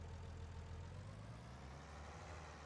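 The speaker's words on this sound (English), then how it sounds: "hop up into our tractor here." A farm tractor engine idles in Farming Simulator 19, a steady low rumble that stays close and even for the whole stretch, with no other sounds.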